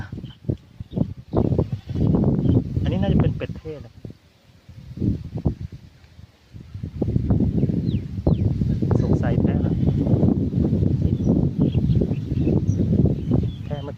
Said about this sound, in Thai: ดูแพะด้วยนะครับ